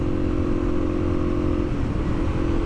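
A 2022 Suzuki DRZ400 motorcycle engine drones steadily while riding, a loud, even buzz with constant low rumble and no pauses.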